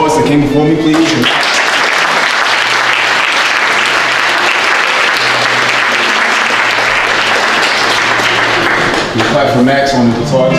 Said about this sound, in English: Can we clap for all the readers and poets that came before me